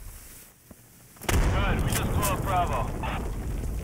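An incendiary grenade goes off in the game Insurgency: a sudden loud, broadband roar that bursts in and keeps burning steadily for several seconds, with someone shouting over it.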